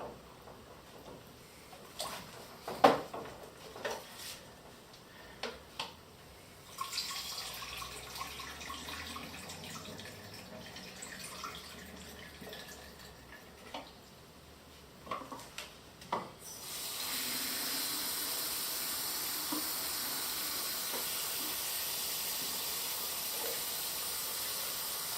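Water runs steadily into a film developing tank during E6 slide film processing, a sustained close hiss and splash broken earlier by clinks and handling knocks.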